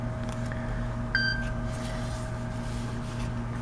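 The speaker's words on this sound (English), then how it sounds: "That was my phone." A mobile phone gives a single short notification beep over a steady mechanical hum in a transit station elevator area.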